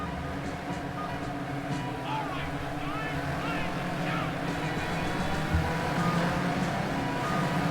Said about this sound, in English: revs begin to rise as they come into the bend